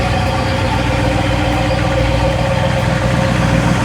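A 1969 Chevrolet Camaro SS big-block V8 idles steadily with a deep, rumbling low-end throb, loud and close, with no talking.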